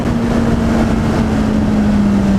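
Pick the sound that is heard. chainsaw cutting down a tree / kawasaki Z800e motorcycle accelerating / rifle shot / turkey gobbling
kawasaki Z800e motorcycle accelerating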